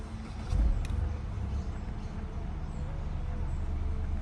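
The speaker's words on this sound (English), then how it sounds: "let's take this car on the road and see how it performs." A 2015 Infiniti Q50 on the road, heard from inside as a low steady engine and road rumble, with a brief louder swell near the start and then an even drone.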